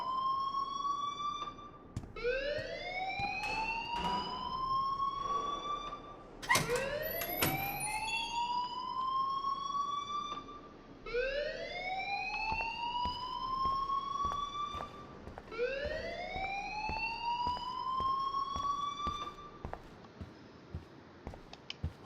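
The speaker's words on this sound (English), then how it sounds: "please turn off that alarm since that's your job" An alarm rings in the video game Life is Strange: a steady series of rising electronic siren sweeps, four long whoops repeating for about twenty seconds with a sharp beep in the middle, loud and alone without speech.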